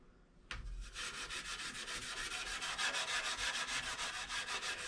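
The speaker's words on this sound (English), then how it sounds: "And we're gonna start sanding." Rust being sanded off a chrome bumper on a classic VW: after a brief pause, close, steady scrubbing starts and runs continuously in rapid, even strokes, with no talking.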